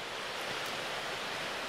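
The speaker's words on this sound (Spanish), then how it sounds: "Ah, está la cascada Velo de Novia, así es que vámonos." The Velo de Novia waterfall, also called Cascada del Cuervo, roars as a steady, broad rush of falling water heard continuously throughout.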